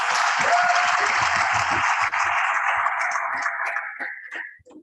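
Applause from a college event audience at IIT Delhi's Kaizen '22, a dense wash of clapping that stays steady for several seconds and then thins out and fades toward the end.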